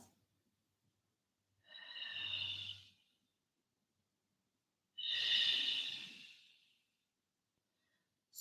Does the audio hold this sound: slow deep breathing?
yes